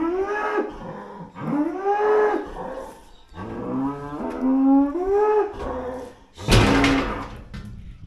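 A dairy cow kept apart from her calves moos loudly and close by, several long drawn-out calls in a row, with a sharp thud or bang near the end.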